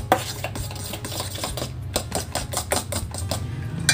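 Ripe bananas mashed in a bowl with a utensil, a steady series of close clinking, tapping strokes against the bowl with soft squelches, rhythmic and continuous without talk.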